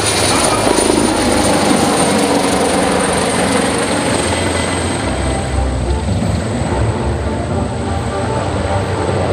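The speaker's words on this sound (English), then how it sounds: "the final aircraft passing by the main stage right now is also another EW-139 Maritime Operations Helicopter" An AW139 maritime operations helicopter's heavy rotor thrum and engine whine pass loudly overhead at a maritime demonstration, fading slightly toward the end with a muffled voice underneath.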